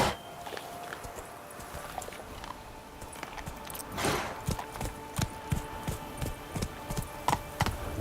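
Roach the horse's hooves clip-clopping in The Witcher 3: Blood and Wine, a steady walking rhythm of soft hoof falls under ambient game sound, growing more distinct and regular toward the end.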